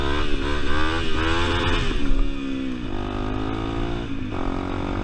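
A Honda CRF250L dirt bike engine drones and revs close up while doing wheelies, pitch rising and dropping as it rides, with no talking.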